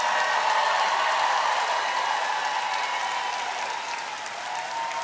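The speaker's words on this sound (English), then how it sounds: "Will you give a huge round of applause for our amazing drummer?" A large concert crowd at Toronto's Danforth Music Hall applauds loudly and continuously, with cheering mixed into a dense roar that eases slightly toward the end.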